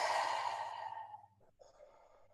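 A person blows out a long exhaled breath during a breathing exercise, a loud airy whoosh that fades over about a second, followed by a short softer breath.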